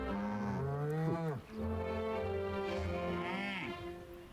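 A cow in the video game Orwell's Animal Farm gives a long, low, drawn-out moo, breaks off briefly, then moos again. The calls sound close and clear, with no talking.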